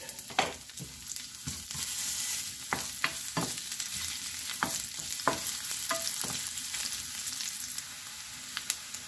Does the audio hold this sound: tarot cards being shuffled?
no